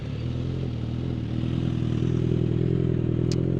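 A Suzuki GSX-S1000 GX motorcycle fitted with a Lextek exhaust idles close by, giving a steady, even, low engine rumble with no revving and no talk.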